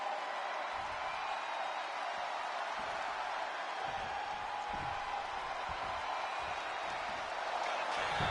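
Crowd applause and cheering from an arena audience in the WWE 2K25 wrestling video game, a steady, even wash of clapping and crowd noise with no clear voices standing out.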